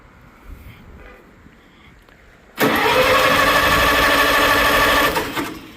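A vintage 1940s tractor engine started with choke: quiet cranking and background, then a sudden loud catch into a steady, close running clatter that holds for a few seconds before easing slightly.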